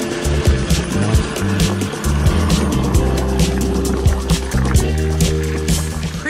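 A 40-year-old sailboat motors slowly through a two-mile wakeless zone, its engine running as a steady low drone with faint tonal hum, loud and close, water noise over it, no talk.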